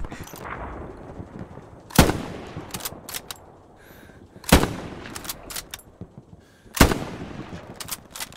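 Three loud, sharp sniper rifle gunshots in the video game Hell Let Loose, on the streets of Carentan, ring out at even intervals, each followed by a decaying echo, with fainter shots crackling in between.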